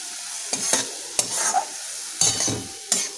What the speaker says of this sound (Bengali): যতক্ষণ মশলা থেকে তেলটা বেরোবে মশলাটা আমরা কষতে থাকবো